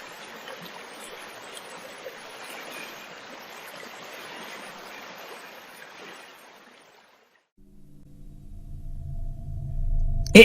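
A Bengali cartoon river near a waiting boat gives a steady rushing wash of flowing water for about six seconds, then fades out and gives way to low, swelling background music.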